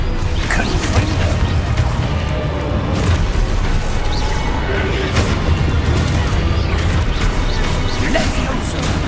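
Hogwarts Legacy duel combat fills with spell explosions as Levioso, Defendo, Protego and Confringo are cast in quick succession. There is a continuous clatter of booms, crashes and sharp magical impacts, with shouted voices mixed in throughout.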